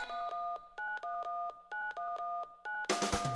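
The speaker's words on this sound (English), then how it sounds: "Grab that phone and dial 911." Telephone keypad DTMF tones dial 911: a quick, evenly spaced series of clear, loud dual-tone beeps, followed by a short burst of noise.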